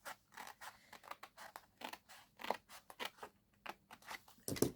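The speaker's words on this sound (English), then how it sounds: "we're going to cut down the next partition." Scissors snipping through a card partition in a papercraft project, a run of short close crisp cuts in uneven rhythm with no voices.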